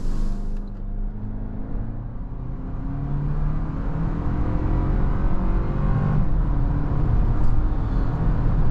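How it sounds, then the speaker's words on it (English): A 2024 Toyota Land Cruiser First Edition accelerates onto a highway on a freezing morning, its engine note rising steadily as speed builds, with loud, continuous cabin and road noise and the pitch climbing through a gear change. "let's go see how the Land Cruiser accelerates out here onto the highway"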